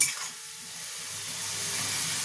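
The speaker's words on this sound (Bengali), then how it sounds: "সেই কারণে আমি আলুটা আলাদা ভেজে নিচ্ছি।" Soft, steady sizzle of potatoes frying on their own in a pan, a faint continuous hiss after a brief initial clatter, with no talking.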